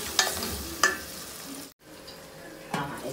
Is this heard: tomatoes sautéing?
yes